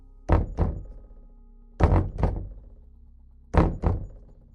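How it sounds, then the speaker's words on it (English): Three pairs of heavy wooden knocks, each a quick double thunk, spaced evenly with quiet gaps between, fairly close and resonant. "from the ridges to the north, you will hear a rhythmic knocking"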